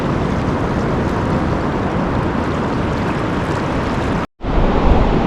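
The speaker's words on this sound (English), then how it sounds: "now I've got to cross this raging river" A raging river near a beach, a steady, loud, broadband rush of water with wind noise on the microphone, briefly cut off near the end.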